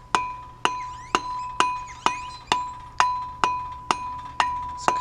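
Light metallic taps seat a clutch plate against a flywheel on a Nissan Silvia build, about ten evenly spaced sharp ringing knocks, close and clear, each decaying quickly, with no talking.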